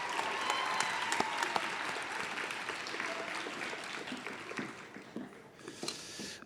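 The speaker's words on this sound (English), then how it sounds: "one more applause for our faculty" An audience at a nursing college white coat ceremony applauds the faculty with sustained, dense clapping throughout a large hall. The applause tapers slightly near the end.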